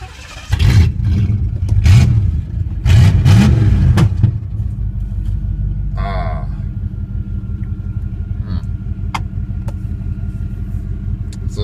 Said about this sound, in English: I'll go ahead and start it up for you guys, because I know you guys love a V8, especially with no exhaust.